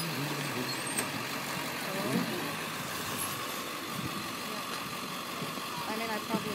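A bus engine idles in a steady low rumble throughout, with people talking over it.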